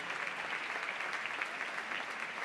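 Audience at a La Patum celebration in Berga claps steadily and loudly, a dense, even wash of applause that holds for the full few seconds without pause.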